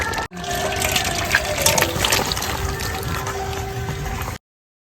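Liquid is poured into a cooking pot while making a chicken curry with ground spinach paste and whole garam masala. A steady, close gushing pour runs for about four seconds, then stops abruptly.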